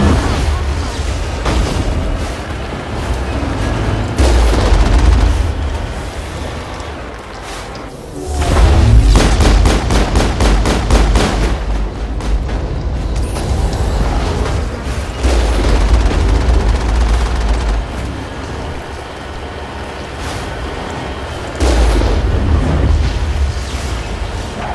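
Explosions and gunfire during tank combat in Mass Effect, repeated heavy booms with rapid machine-gun style bursts and a rumbling low end throughout.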